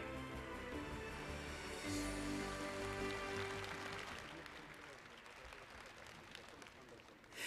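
Festival audience applauding at the White Nights youth music festival in St. Petersburg: a dense, steady wash of clapping from a large crowd, loud at first and easing slightly toward the end, with music starting underneath.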